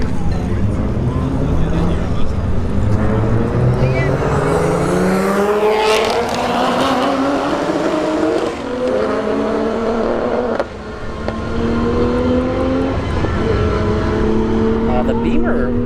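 A Mark IV Toyota Supra and a BMW 335i drag race down a strip, engines roaring loud and close with rising revs and gear changes, under continuous commentary and crowd noise.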